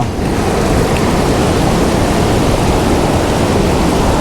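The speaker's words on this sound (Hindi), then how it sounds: "ये जो आवाज़ आ रही है ना पानी की, बहुत ही सुंदर और एकदम रिलैक्स फील करवा रही है ये आवाज़" A crystal-clear, cold mountain stream in the Zanskar Valley rushes steadily and close by, a dense, even roar of flowing water with no voices.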